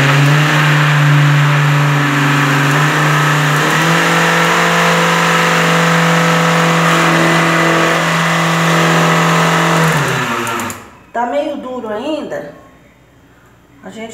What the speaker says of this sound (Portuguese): Aí nós vamos ligar o liquidificador para bater.